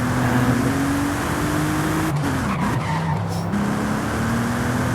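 A Bentley Continental Supersports in a racing video game gives a steady engine drone throughout a lap, with a tire-squeal skid in the middle, loud and continuous with no talk.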